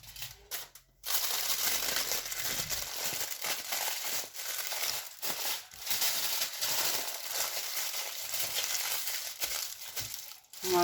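Aluminium foil is crumpled and folded closed around a homemade Lyon-style tacos, a long run of close, loud crinkling and crushing with brief pauses.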